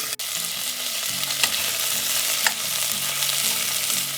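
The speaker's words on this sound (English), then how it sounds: "we got our turkey parts cooking" Turkey neck, gizzard and heart frying in hot oil in a pan, a loud continuous sizzle with faint stirring and scraping, near and without talk.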